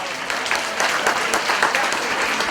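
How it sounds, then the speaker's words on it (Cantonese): A wedding banquet room full of guests claps steadily for the newlyweds, a dense and even burst of applause with no pauses. "我哋首先俾啲掌聲我哋一對新人先好唔好？"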